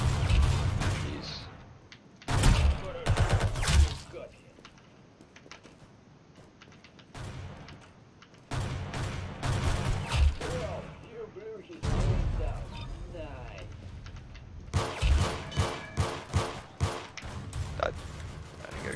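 Shotgun blasts in the Roblox Egg Hunt 2019 game, several broadband bursts arriving in irregular clusters, some in quick succession, with a voice talking between and over them.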